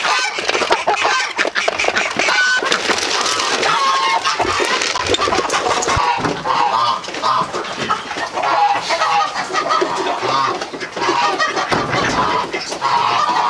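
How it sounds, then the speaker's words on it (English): A loud, busy flock of farm fowl, chickens alongside geese and ducks, clucks and honks continuously up close during feeding, with overlapping calls and squawks filling the whole stretch. "I'll go in there and I'll feed the chickens"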